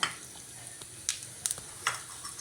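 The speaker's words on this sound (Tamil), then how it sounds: "கடாயில் திரும்ப கொஞ்சம் எண்ணெய் ஊற்றி ஒரு ஸ்பூன் சீரகமும் அரை ஸ்பூன் சோம்பும் போடுறேன்" Oil sizzles and crackles quietly in a kadai as cumin and fennel seeds fry, with a few sharp pops and spits standing out against the soft frying hiss.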